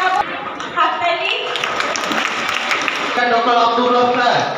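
Moderate audience clapping at an Independence Day celebration in Amtala Knowledge City fills the middle seconds, with a speaker talking before and after it.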